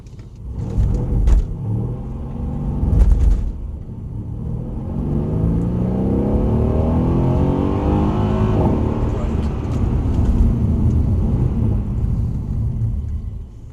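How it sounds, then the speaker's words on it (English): A rear-wheel-drive car accelerates hard, its engine note climbing steadily in pitch, then eases off and brakes to a stop. The engine roar is loud and continuous and comes with a low rumble throughout. "So we'll just start off with hard accelerate."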